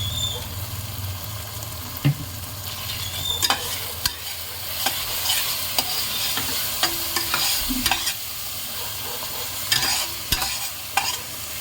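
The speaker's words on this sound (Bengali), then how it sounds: "ভালো করে মশলাটা দশ মিনিট মতন কষিয়ে দেবো" Spice masala for a chicken curry being stirred and fried in a pan, a steady close sizzle broken by repeated scraping strokes of a spoon, with no talking.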